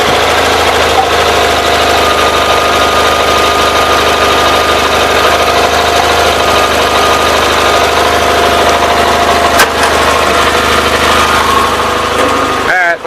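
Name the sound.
four-wheeler ATV engine idling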